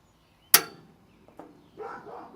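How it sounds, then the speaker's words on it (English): A Blackstone 17-inch griddle's gas igniter gives a single sharp, close click, followed by a faint soft rush of the burner catching. "you're going to hear a click, and that's the igniter going"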